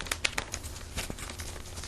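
Clear plastic wrap crinkled and handled while wrapping a small flower arrangement in a mini container, with soft rustling and a few sharp crackles close up, no talking.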